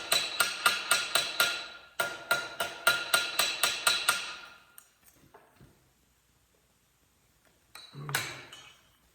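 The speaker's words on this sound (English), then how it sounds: "this is one of my favorite metal shaping hammers right here. All it is an old ball peen hammer that I cut down" A cut-down old ball peen hammer strikes sheet metal for a star napkin holder, ringing in two quick rhythmic bursts of about six sharp blows each, then a pause and a single later clank.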